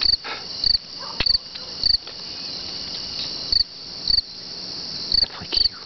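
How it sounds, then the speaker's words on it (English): Crickets chirp outdoors at sunset by railroad tracks, a loud steady high trill with repeated sharper bursts recurring every second or so, alone with no talk. "Crickets."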